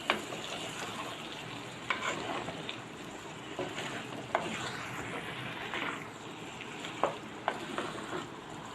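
Brinjal pieces are stirred in a cooking pan for an Andhra salted-fish curry, with quiet, close scraping strokes and light clinks over a faint sizzle and no voices.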